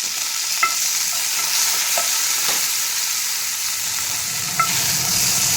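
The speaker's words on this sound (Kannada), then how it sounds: "ಇದನ್ನ ಹಾಕಿ ಚೆನ್ನಾಗಿ ಫ್ರೈ ಮಾಡ್ಕೊಂಡ್ಬಿಡ್ತೀನಿ" Green chillies frying in hot oil for Kolhapuri thecha, stirred with a utensil: a steady close sizzle and hiss runs throughout, with a few sharp scraping taps of the stirring spoon.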